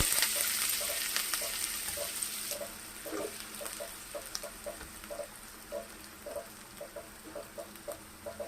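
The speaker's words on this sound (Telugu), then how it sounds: "కట్ చేసుకున్న ఉల్లిపాయలన్నీ దోరగా వేయించుకోండి." Chopped onions fry in hot oil with cloves and a piece of cinnamon, a close sizzle that gradually settles while a spoon taps the pan in a steady, regular rhythm.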